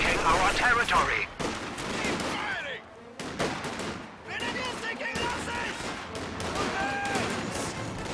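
Machine gun and rifle fire in a World War II strategy game match with an MG42 position, sounding as repeated sharp bursts and scattered shots, close and loud, mixed with other battle noise and a commentator's voice over much of it.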